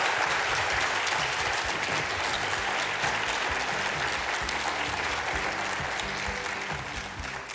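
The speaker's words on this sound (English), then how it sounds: "How about a big round of applause for Sheriff Paul Pinzone?" A crowd claps loudly and continuously for a sheriff at a community event, a sustained wash of applause that begins to thin toward the end.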